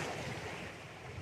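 Ocean surf washing onto a San Diego beach, a steady broadband wash of breaking waves with some wind noise on the microphone, continuous and fairly close with no voices.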